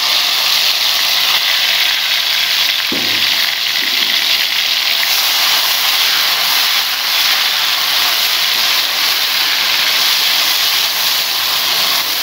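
Tomatoes sizzle in a hot pan for aloo anda salan, a loud, steady hiss that holds for the whole stretch, with one brief thump near the start.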